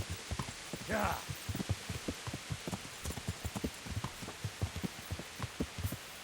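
Galloping horse hooves in the medieval game Kingdom Come Deliverance, a fast, steady rhythm of low thudding beats running the whole time at moderate level, with a brief rising whoosh near the start.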